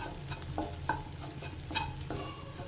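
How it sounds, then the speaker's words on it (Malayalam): Crushed coconut being roasted and stirred in a pan, a soft, quiet sizzle punctuated by repeated scraping strokes of a spoon against the pan at an irregular rhythm. "ഇനി നമ്മൾ ഈ നാളികേരം അതിലിട്ടിട്ടൊന്ന് വറുത്തെടുക്കാം."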